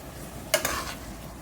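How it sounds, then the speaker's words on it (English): A spoon stirs Jamaican saltfish rundown with tomato in a pot, giving two quick, quiet knocks followed by a short soft scrape, then stillness. "Let me give this a little stir."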